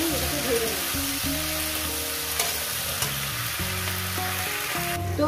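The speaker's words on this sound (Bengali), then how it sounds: "এই সবজিটাকে দিয়ে আমি 2 থেকে 3 মিনিট এটাকে ভেজে নেব।" Water spinach stems and green chillies frying in a pan for a curry, a bright continuous sizzle with occasional scrapes of stirring, close and steady with no voices.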